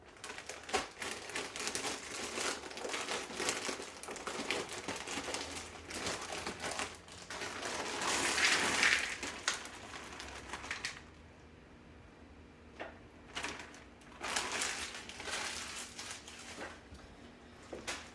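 A bag of frozen, cut-up hash browns being emptied into a dish: crinkling plastic and a scattered pattering rush of frozen pieces in several bursts, close and fairly quiet, with pauses between.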